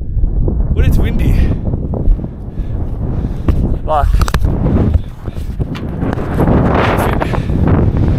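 Loud wind on Mt Taranaki, New Zealand, buffets the microphone with constant rumbling gusts while a person talks underneath.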